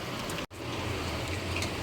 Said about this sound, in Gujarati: સરસ વરસાદ થઈ ગયો.